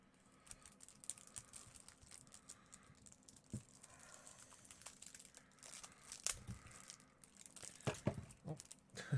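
Cellophane wrapper being peeled off a Magic: The Gathering Throne of Eldraine Rowan planeswalker deck, close, quiet crinkling and tearing in irregular bursts that grow busier toward the end.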